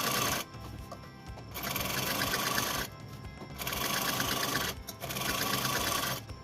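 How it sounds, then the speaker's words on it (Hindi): Sewing machine double-stitching along the neckline of a tunic kurti, running in three steady whirring bursts separated by short pauses, close and clear with no talk. "अब हम इसकी साइड में एक और डबल स्टिचिंग करेंगे।"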